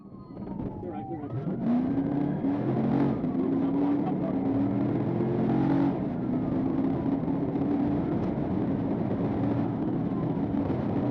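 During a police chase, a car's engine drones and revs at speed with road and wind roar, heard from inside a pursuing vehicle, while voices talk over it.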